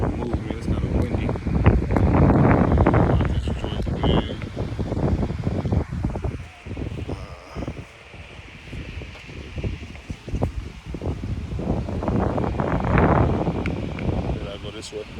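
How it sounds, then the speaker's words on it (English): Gusty outdoor wind buffets a microphone with heavy low rumbling bursts that rise and fall, strongest early and late, with quieter lulls in the middle. "I might have to move, man. It's kind of windy."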